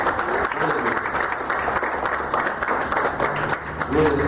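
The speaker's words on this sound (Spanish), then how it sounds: "Un aplauso al Señor por esta bendición para nosotros." A congregation applauds during an evangelical church service, with dense, sustained clapping from many hands filling the room and a voice briefly audible near the end.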